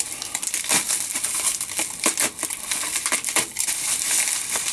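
Cardboard delivery box being cut open, with dense crinkling, scraping and tearing sounds running continuously and close up, punctuated by sharper rips.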